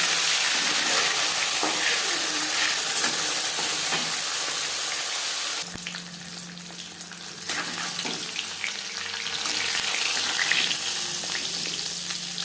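Sar puti fish sizzle in hot oil in a pan with a steady crackling hiss, broken by a few soft clinks and a brief shift midway as the fish are moved, then the frying carries on evenly.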